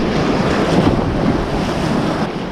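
Choppy winter sea breaking on a coast with a bit of swell, a loud, constant wash of surf and spray mixed with heavy wind buffeting the microphone, no voices.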